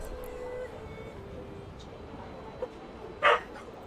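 Dogs barking in another room, muffled and mostly distant, with one short louder bark burst near the end over a low background hum.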